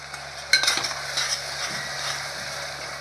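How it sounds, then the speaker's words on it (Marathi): Onion, tomato and spices for Nashik misal fry in a pan, a soft steady sizzle under the scrape and clink of a stirring spoon, with one sharper knock near the start and no talking. "आपण आता हे कांदा टमाटर मसाले सर्व शेकून घेऊया"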